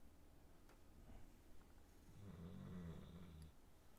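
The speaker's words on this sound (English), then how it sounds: "That's the noise he makes when he's snoring." A sleeping pet dog lying on a carpet snores indoors, a low rumbling snore that swells and fades once across a few seconds, close by and fairly quiet with no talking.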